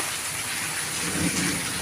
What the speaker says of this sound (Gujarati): અત્યારે ખાલી અડધો કલાકમાં જ મુસળધાર વરસાદ અહીંયા વરસી રહ્યો છે